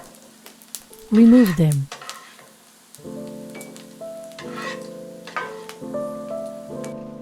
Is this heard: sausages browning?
yes